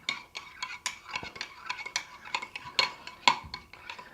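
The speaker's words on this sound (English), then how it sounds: "We'll give it a good stir" A spoon stirring yogurt sauce in a bowl, giving a quick irregular series of light clinks and scrapes against the bowl, close and fairly quiet, with no talking.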